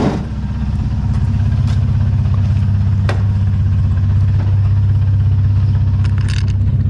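Nissan S13 with a VQ engine idling after a misfire fix, a loud, steady, smooth rumble close by with occasional light clatter, no talk.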